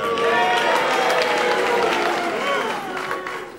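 A television studio audience claps and cheers in a loud, continuous burst that slowly tapers off toward the end.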